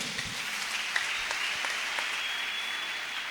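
Congregation applauding during a church service, a steady wash of clapping that holds evenly throughout, moderately distant with no voices over it.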